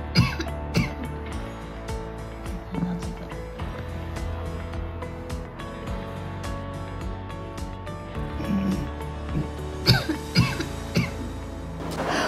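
Repeated coughs and throat clearing, some sharp and loud, others softer, scattered irregularly across a quiet background.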